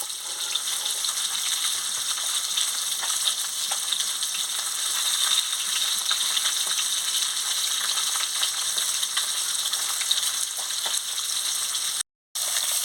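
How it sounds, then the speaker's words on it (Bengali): Tilapia fish fillets frying in hot oil give a steady, dense sizzle and crackle that runs continuously at close range, with one brief cutout near the end. "এবারে মাছগুলো লাল লাল করে ভাজা হয়ে গেছে"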